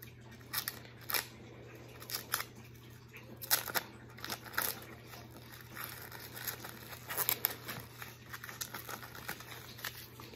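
Packages being opened and shampoo bars cut up, with scattered crinkly tearing, snipping and rustling bursts close by, fairly quiet over a steady low hum.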